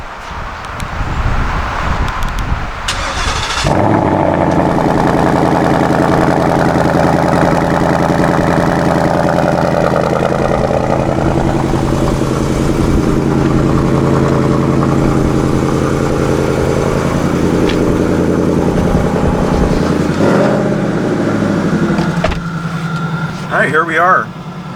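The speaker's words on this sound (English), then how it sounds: "Let me try a little cold start." A 2018 Ford Mustang GT automatic fires up from cold with a quick crank and a loud roar, then settles into a high, steady, rumbling fast idle that later drops lower, heard up close with a voice talking over it.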